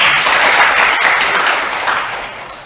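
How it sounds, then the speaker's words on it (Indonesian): Loud, close burst of clapping from a class of students in a physical education lesson, dense at first and gradually thinning out. "Tepuk tangan dulu untuk tangannya."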